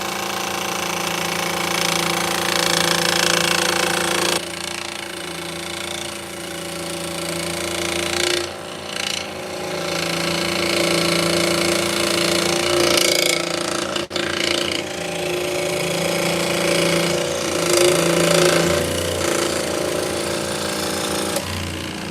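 Scroll saw cutting wood to make drop spindles, a loud continuous buzzing rattle that runs nearly the whole time, briefly stopping and restarting midway.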